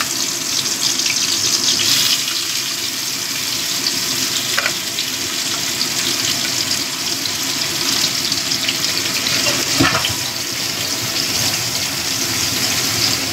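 Boiled ambarella hits hot oil tempering in a pan for a coconut-poppy-seed chutney, giving a loud, continuous sizzle and crackle with a few brief clatters and no talk.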